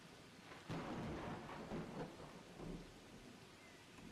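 Thunder rumbles with steady rain falling in the video game VEIN, a loud roll of thunder breaking in early and fading over a continuous hiss of rain, no talking.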